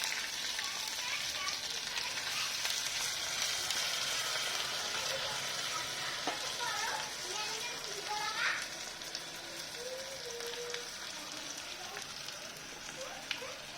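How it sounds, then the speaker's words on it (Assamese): Ginger paste fries in a pan with dried chillies and bay leaves for a vegetable khichdi, a steady close sizzle and crackle running throughout with faint scraping and clinks over it. "আদাখিনি ভাজা হৈ গৈছে।"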